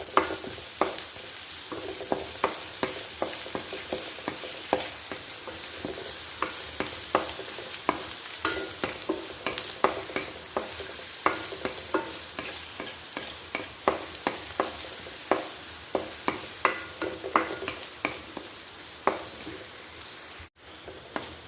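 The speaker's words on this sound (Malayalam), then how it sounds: "ഇഞ്ചിയും വെളുത്തുള്ളിയൊക്കെ നല്ല മൂത്തിട്ടുണ്ട്" Chopped ginger and garlic fry in a pan for Kerala mango pickle, a dense crackling sizzle packed with rapid pops and spatters that stays steady throughout before briefly cutting out near the end.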